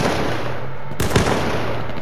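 One close gunshot crack from a shooter game duos match, loud and sudden, with a short ringing decay against a constant low hum of game ambience.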